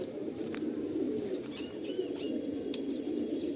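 Pigeons coo steadily in a crowded loft holding hundreds of birds, soft throaty calls layered over one another with a few sharper chirps rising above the constant murmur.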